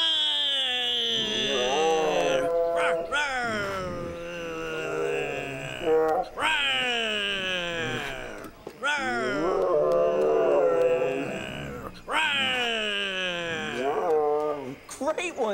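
Voices imitate Siberian tiger roars, producing long, wavering, howl-like growls repeated about five times with brief gaps between them, loud and close.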